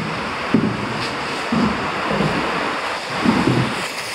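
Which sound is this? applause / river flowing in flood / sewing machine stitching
river flowing in flood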